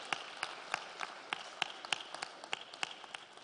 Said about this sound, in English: Let's give them a big hand of applause again.